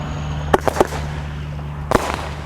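Fireworks pop and crackle outdoors in a few sharp bursts, one cluster of cracks followed by another, over a steady low hum during a Fourth of July safety report.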